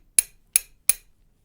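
A chasing hammer taps a metal chasing tool three times in even rhythm, each a bright, sharp metallic tick, close and clear with silence between strikes.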